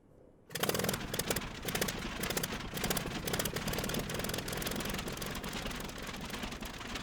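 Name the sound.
Curtiss Jenny biplane engine starting up, video game Microsoft Flight Simulator 2020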